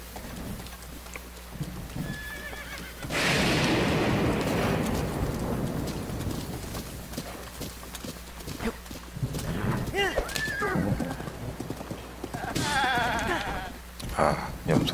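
A horse in Zelda: Breath of the Wild whinnies and its hooves clip-clop, with goat-like bleats nearby; game music and a voice talk over it.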